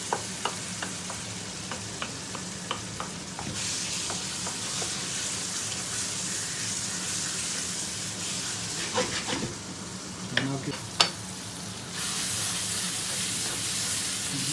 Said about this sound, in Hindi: हिलाते रहें, भुनता रहेगा कीमा।